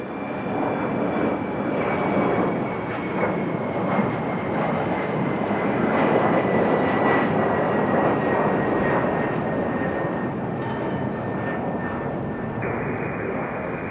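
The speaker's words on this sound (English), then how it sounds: "E175 going back to DC." An Embraer E175 jet airliner departing Raleigh-Durham International Airport toward DC, heard outdoors as a loud, sustained jet engine roar with a steady whine, continuous for the whole stretch without speech.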